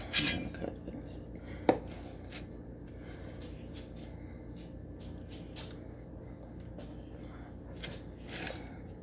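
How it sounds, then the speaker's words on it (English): Knife slicing beef smoked sausage on a cutting board for a tomato kale soup, soft close tapping and scraping strokes with a sharper knock near the start, quiet and close with no talking. "so I'm going to cut that up next. I'm using beef smoked sausage."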